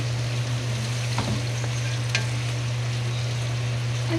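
Onions sautéed in a pan for chicken adobo, a steady close sizzle with a few stirring scrapes over a constant low hum.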